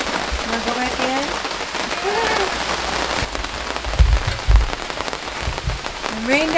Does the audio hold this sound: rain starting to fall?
yes